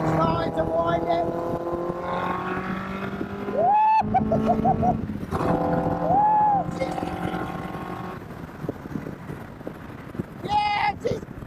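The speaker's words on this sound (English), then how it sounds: "You can hear the throttle. Starting to wind up, 3rd gear, starting to wind it." An Indy R race car with a Ford Duratec engine winds up through third gear, its engine note rising and falling in repeated pulls beneath heavy wind rush and a talking voice.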